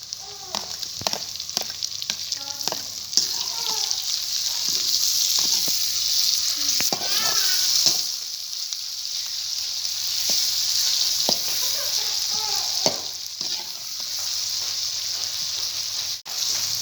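Onion, tomato and green chili frying in a pan for a karela dish, a loud continuous hiss with occasional stirring clacks and soft spatters, close and steady throughout.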